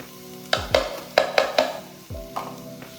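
Onions and garlic going into lightly warm olive oil, with a low sizzle under several sharp clinks and scrapes of a utensil stirring in the pan, heard close up.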